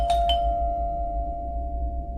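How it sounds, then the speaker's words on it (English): A doorbell rings twice in quick succession, two bright chimes that leave a single sustained tone ringing on over a low hum, close and clear with no voices. "I was awoken that night, not even an hour later, to the doorbell ringing twice"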